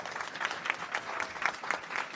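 A crowd applauds at a political rally in Kashmir, steady, dense clapping over a short span, fairly loud, with no speech over it.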